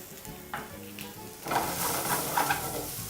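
Cumin powder, basil and other spices sizzle and fry in a pot for a feijoada, with a spoon stirring through them; the sizzle swells louder midway and keeps crackling steadily to the end, with no talking.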